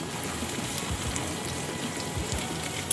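Chopped onions sizzle and crackle steadily in hot oil for mutton liver bhuna, a continuous close frying hiss with scattered pops and no voices.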